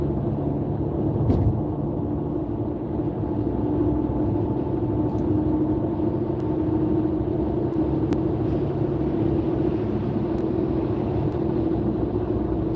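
Steady low engine rumble fills a car cabin while driving, a continuous loud drone with faint road noise and a few small ticks, no voices over it.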